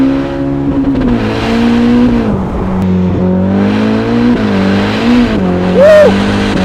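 A Ferrari SF90 V8 revs hard and loud and close, its engine note rising and falling steadily as the tires spin and squeal briefly near the end.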